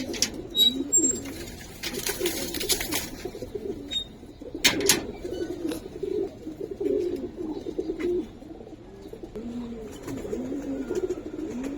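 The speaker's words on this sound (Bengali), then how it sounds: "এটা হচ্ছে মাদি কবুতরটা।" Giribaz coloring pigeons, including a female, coo repeatedly in soft rolling murmurs close by, with a few clatters and flutters in the background.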